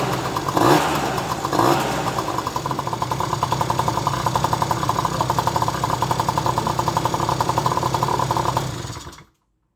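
A scooter fitted with a 70cc kit engine starts up and settles into a steady, rattly two-stroke idle that runs loud and close for several seconds before cutting off abruptly.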